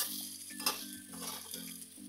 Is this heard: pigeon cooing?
no